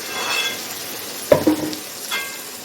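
Ground tomato paste poured into a hot frying pan for okra curry, a short sharp burst of sizzling and spatter followed by a light stir, close and loud against a quiet background.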